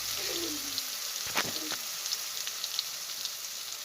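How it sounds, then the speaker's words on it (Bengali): Spices for a vegetable curry of grated carrot, beet and peas frying in a pan, with cumin and ginger paste, give a steady close sizzle throughout. A brief stirring clatter comes near the start and no one speaks. "মশলাটা আগে আমরা কষিয়ে নিচ্ছি"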